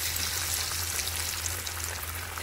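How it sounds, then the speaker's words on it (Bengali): Vegetable chop balls deep-fry in hot oil, giving a steady, even bubbling hiss at moderate volume with no talking. "চলো তেলটা গরম হয়ে গেছে এবারে আমি এক এক করে বলগুলো এর মধ্যে ছেড়ে দেবো"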